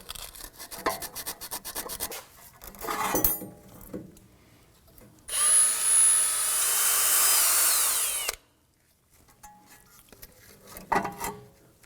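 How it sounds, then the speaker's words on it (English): A brake caliper bore on a Volvo XC90 is worked with sandpaper and a bore brush: scattered scraping and rubbing, then a loud steady whirring burst of about three seconds, followed by more quiet intermittent scrubbing. "I'm going to use a bore brush after I use the sandpaper."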